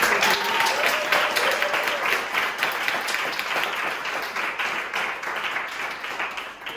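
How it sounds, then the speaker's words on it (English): A round of applause from an audience at an LGBT community question-time event, dense steady clapping filling the room throughout and slowly tapering toward the end. "If we can all give them a round of applause."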